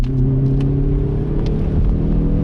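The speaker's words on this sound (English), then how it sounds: "Now we're going to try a 0 to 60 in rather wet conditions." A Hyundai i30N accelerates hard on a wet road during a 0-60 run, its engine droning loud and close with a steady, rising tone and a few faint clicks on top.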